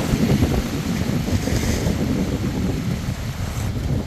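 Wind gusts across open water beside a pontoon where a few boats are moored, a loud steady rush with heavy microphone buffeting and a faint wash of waves underneath, no voices.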